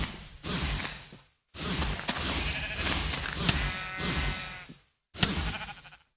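Sheep in Minecraft bleat while being attacked, several short loud bleats in quick bursts with brief silent gaps and swishing hit sounds between them.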